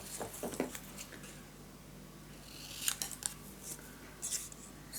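Scissors snipping through paper while making a wildflower mini album, a few quick close cuts early on and another cluster near the end over a quiet room hum.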